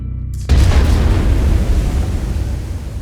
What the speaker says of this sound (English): I'm going to go ahead and fire the cannon